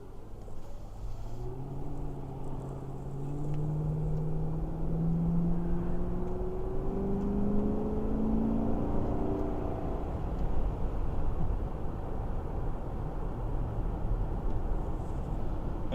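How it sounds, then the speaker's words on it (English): A Ford 4.6 V8 with a modified intake pulls through a drive, its engine note rising in broad, sliding harmonic sweeps over steady low rumble and road noise, heard from inside the car. "they got that real throaty intake sound"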